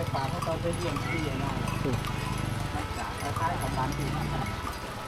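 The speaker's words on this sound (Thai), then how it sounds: "งัวชาวบ้านกำลังมาเลยนะมาแต่เลี้ยงงัวในยามคำคำ" Village cattle walk past in the evening rain in a rural Lao area, with steady hoof clatter and jangling cowbells heard close, under continuous background noise and people talking.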